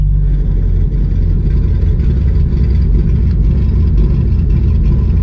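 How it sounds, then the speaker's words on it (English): A supercharged LS3 Chevrolet Camaro SS engine rumbles loudly at close range through an open header, a deep steady throaty idle with a faint pulsing rhythm. "Let's see if you can get a better sound of this exhaust here."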